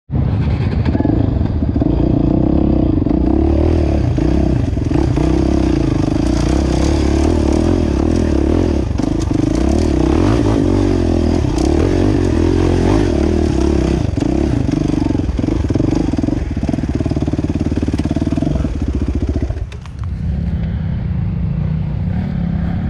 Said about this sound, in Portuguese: Olha o tanto de moto que tá indo no morro.